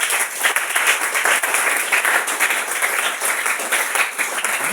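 A church congregation breaks into loud, sustained applause, dense clapping filling the room evenly from start to finish with no talk over it.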